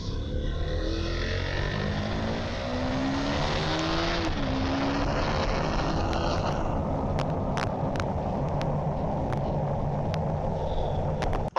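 A motorcycle engine with plenty of low-end torque pulls away at low revs, a steady loud drone with rising engine tones, then settling into a smoother rushing sound with occasional clicks as it gathers pace.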